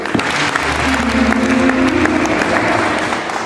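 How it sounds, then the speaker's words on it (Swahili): Sustained applause from the delegates of a 17th general assembly at a Kilimanjaro Kati constituency hall launch, steady dense clapping filling the room throughout. "Mpigie Bwana makofi"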